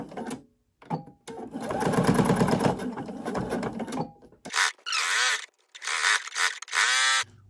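A sewing machine back stitches the cuff of a lined tote bag over its straps, running in bursts of rapid mechanical whirring that stop and restart several times, close and clear.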